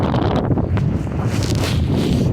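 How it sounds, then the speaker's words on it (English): Strong wind buffets the microphone outdoors while someone walks, a loud continuous low roar with gusty rustling that never lets up. "it got really windy when I turned that corner here"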